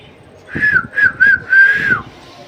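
A person whistles a short tune of several bright rising notes in quick succession, close and clear over faint room noise.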